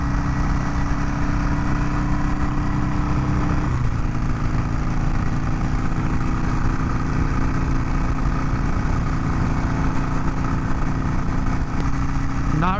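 A 2020 Harley-Davidson Sportster motorcycle being ridden, its engine droning steadily and loudly throughout with a slight shift in pitch partway through, wind noise mixed in.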